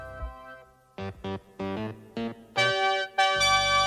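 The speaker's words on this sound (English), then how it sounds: "the robots' voice boxes are exactly a flattened fifth out of tune" Synthetic, buzzy robot voices sing a short jumble of chopped notes a flattened fifth out of tune, sounding mechanical and sour, ending on sustained harmonized tones.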